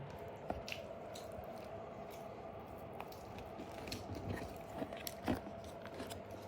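Close, quiet chewing and biting of food, soft wet squishes and occasional crisp bites at an irregular rhythm over a faint background.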